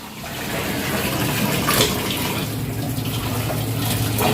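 Tap water runs steadily into a sink while chicken is washed in a home kitchen, a continuous broadband splashing rush held at an even level throughout.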